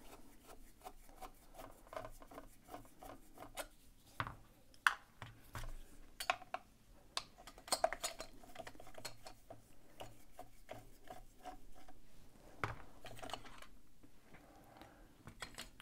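Screws are worked out of a Kaba Simplex Series 1000 mechanical lock to open its housing, giving close scraping, rubbing and metallic clicks and ticks in an irregular rhythm, with no talk.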